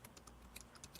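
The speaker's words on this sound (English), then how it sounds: "To do this, we'll type in" Soft, quiet keystrokes on a computer keyboard as a command is entered while configuring switch port security, a short run of scattered clicks with no talking.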